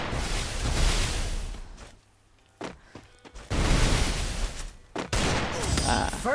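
Gunfire in the shooter game Free Fire, heard as loud dense bursts that cut off into a short near-silent gap and then return in a long sustained volley, with a thump and a brief pause before the final stretch.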